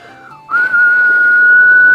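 A voice imitates a magical whistle, rising from a short soft tone into a loud, steady, piercing whistle held for well over a second, close and alone.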